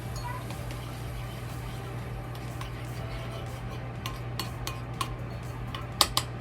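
Garlic and Chinese pepper powder stirred in a pot after hot oil is added, soft continuous scraping with sharp utensil clinks against the pot growing more frequent toward the end, under a low steady hum.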